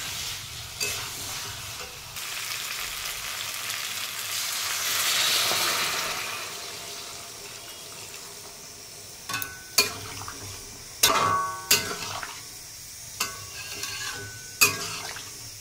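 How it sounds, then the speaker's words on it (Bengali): Potato curry spices frying in a pan hiss loudly as hot water is poured in, the sizzle swelling then easing, followed by several sharp spoon scrapes and knocks against the pan. "এখন মশলাটা অনেকটাই কষানো হয়ে গেছে, এবার জল দিয়ে দেবো, গরম জলটা।"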